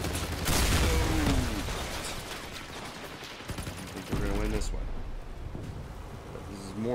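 Guns firing in a vehicle-building video game, a dense rattling barrage with a rushing wash of noise, loud and continuous, broken by a brief lull and a second burst, while someone talks throughout.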